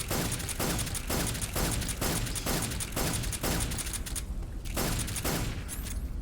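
Gunfire from a gun in the video game Metal Gear Solid 3, a regular rhythm of about ten loud, close shots roughly every half second, with a brief gap near the end.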